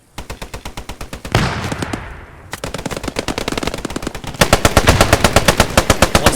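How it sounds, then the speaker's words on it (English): Machine gun fire in the video game Post Scriptum during a rooftop defense: rapid, evenly spaced bursts of rounds, loud and sustained, with a brief break before the firing resumes even louder. "he just fires rounds in the general direction. Keep them suppressed."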